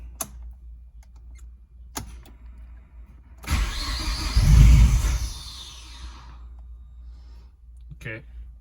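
An 800hp Mazdaspeed6 engine cranks and starts after a few sparse clicks. The starter whirs into a loud, deep roar that peaks briefly, then settles and fades, followed by faint clicking.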